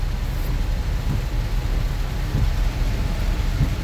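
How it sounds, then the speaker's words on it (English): Heavy rain falling on a road, heard from inside a moving car: a steady, dense wash of noise with a low rumble underneath, even and unbroken throughout, with no talk. "you know it's been raining heavy for a long time"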